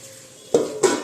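Spinach being fried and stirred in a pan, with two short bursts of scraping and sizzling against a quiet, steady background hiss.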